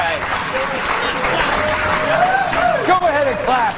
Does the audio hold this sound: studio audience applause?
yes